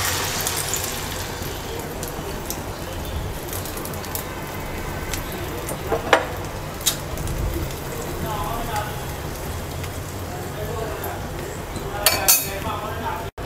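Eggs dropped into hot oil in a wok, a continuous crackling fry under clattering of utensils and pans, with a few sharper knocks near the end.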